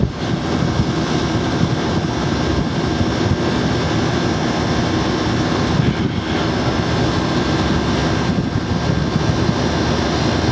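An HVAC air-conditioner compressor runs at an outdoor unit after frost has cleared. It gives a loud, steady mechanical drone with a constant airy rush and a low hum, unbroken and close by.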